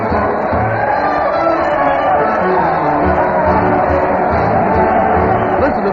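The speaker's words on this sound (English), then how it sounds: "Listen to that crowd cheer Fred Allen as he leads his weekly parade to" A studio crowd in a 1936 town hall radio comedy show cheers loudly and continuously over an old broadcast recording, the sound a dense, steady roar.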